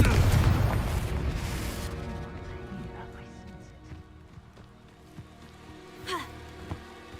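The Confringo explosion spell fires in Hogwarts Legacy with a loud, dense burst of rumbling noise that fades over a couple of seconds. Shouted spell incantations and game sounds follow it.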